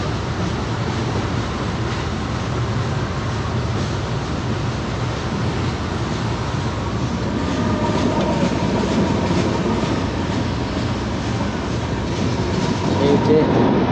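A passenger train rolls along its tracks, heard from inside as a loud continuous rumble with rattling carriages and faint clickety-clack, while someone talks over it.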